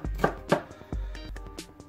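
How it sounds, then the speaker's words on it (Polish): A kitchen knife finely chops an onion on a board, with several sharp, close knocks at an uneven pace over two seconds. No voice is heard. "Bardzo drobno trzeba pokroić cebulę."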